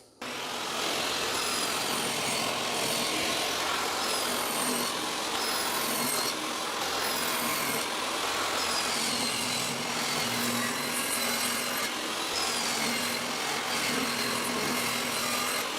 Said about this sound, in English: I'm just using a regular table saw blade. I do have a dado stack, but it doesn't work for this table saw.